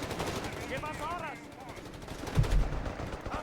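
Rapid machine gun and carbine fire from a Company of Heroes 3 battle, with sustained bursts and a heavier thump near the middle, under and alongside talk.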